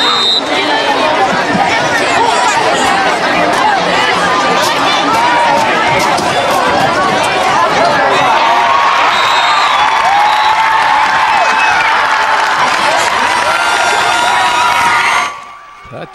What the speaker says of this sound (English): look at the crowd here, the student section